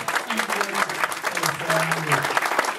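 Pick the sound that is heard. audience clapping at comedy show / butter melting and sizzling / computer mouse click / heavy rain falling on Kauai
audience clapping at comedy show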